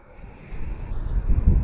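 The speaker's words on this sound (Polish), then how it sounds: "Pochwaliłem wiatr i nagle się zerwał, zaczął dmuchać jak szalone" Outdoor wind gusting in a forest after snow, a rising low rumble that builds and buffets the microphone over a second and a half, growing louder toward the end.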